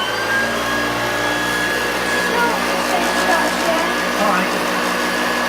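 A 1974 Hoover Junior 1346A upright vacuum cleaner runs steadily while picking up a mix of large and fine test debris from carpet, a loud continuous motor whine with a brief spoken word over it.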